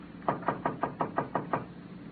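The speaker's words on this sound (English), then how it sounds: "She knocked on the door of room 12." Seven evenly spaced knocks rap on a room door at a run-down lodging in a vintage radio detective drama, crisp and close with no voices over them.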